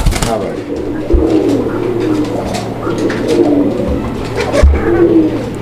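An Arabian Koka pigeon coos in repeated, rolling low phrases close by, over a steady low hum and faint background murmur.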